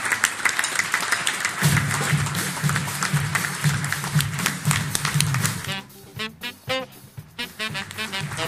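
An audience at a celebrity roast event claps and applauds, a dense patter of many hands that thins into scattered claps toward the end.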